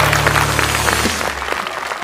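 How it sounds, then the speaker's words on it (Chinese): A studio audience at a televised basketball show applauds in a short, dense burst that fades after about a second, with faint voices underneath. "我们给他掌声好吗？"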